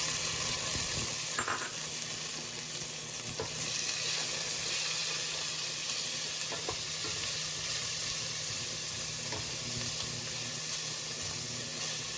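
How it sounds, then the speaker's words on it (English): Spices sauté in a little hot oil in a pot, giving a continuous soft sizzle and hiss with a few faint stirring clinks, fairly quiet and steady with no voices. "add all your spices and saute them"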